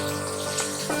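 Water poured into a pan of Roopchand fish curry with ground spices: a steady close splashing pour, continuous for about a second.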